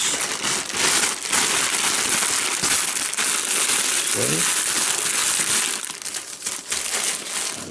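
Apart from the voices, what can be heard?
plastic bags being crumpled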